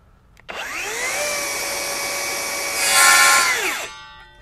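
Flex FX2141R 24-volt brushless rear-handle circular saw spinning up and cutting wood at a 45-degree bevel: a loud, steady whine lasting a few seconds that rises slightly mid-cut, then winds down.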